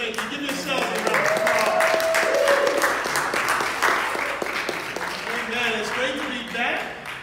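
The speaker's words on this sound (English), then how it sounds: "Give yourselves a round of applause." A church congregation at a Sunday worship service breaks into sustained, fairly loud applause, with music and voices mixed in beneath the clapping.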